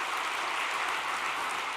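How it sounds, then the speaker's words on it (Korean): Audience applause at a church gathering, a steady dense wash of clapping with no distinct beats, sustained evenly and fairly loud throughout. "우리 남부산 교회를 위해서도 박수 한번 보내주시기 바랍니다."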